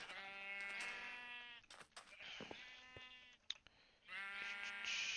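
Sheep in the video game Minecraft bleat in loud, drawn-out wavering calls, one at the start and another at the end, with a few short clicks and game noises between them and no talking.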